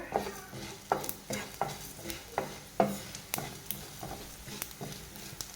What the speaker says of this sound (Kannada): ಜೀರಿಗೆ, ಸ್ವಲ್ಪ ಕಾಳು ಮೆಣಸು, ಸ್ವಲ್ಪ ಮೆಂತ್ಯ ಹಾಕ್ಕೊಂಡು ಚೆನ್ನಾಗಿ ಹುರ್ಕೊಳ್ಬೇಕು